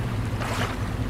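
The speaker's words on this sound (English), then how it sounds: "This must be some kind of water reservoir." Water sloshing in a reservoir in the horror game Anemoiapolis, a steady low rumbling wash with airy hiss, continuous and close for the whole moment.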